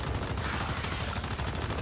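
Rapid, sustained automatic gunfire from the survival shooter Once Human, aimed at a spider enemy: a dense, continuous stream of loud shots with no break and no talking.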